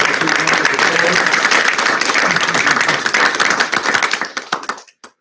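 An audience applauds at a school board of education meeting, a dense, loud burst of clapping that thins into scattered claps and fades to silence near the end.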